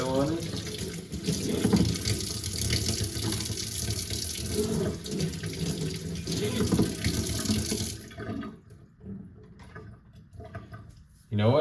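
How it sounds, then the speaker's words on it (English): Tap water runs steadily into a sink, hissing loudly as a lid is rinsed clean of tomato. The flow stops after about eight seconds, leaving a few faint drips and clatters. "Just gonna rinse off the lid because it's got some tomato on it."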